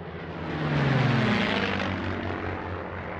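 A Lockheed P-38, a twin-engine single-seat fighter, roars past in flight with a loud, broad propeller-engine drone and a falling pitch as it passes, then a steady rumble.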